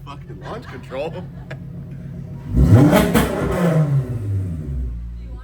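A tuned 3.6L VR6 engine in a VW MK6 GTI revs hard on launch control, one loud rising rev that holds and then drops back, with people talking before and around it.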